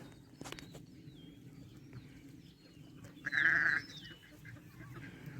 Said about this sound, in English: Baby goat, Nigerian dwarf goat with the baby Katahdin St. Croix ram, or a little lamb.